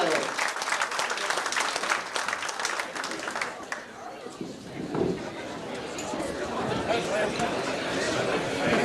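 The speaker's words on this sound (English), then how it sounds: "So I think he deserves a good round of applause." Applause from the guests at a club dinner dance in a hotel, a broad wash of clapping mixed with crowd chatter that thins in the middle and then swells again.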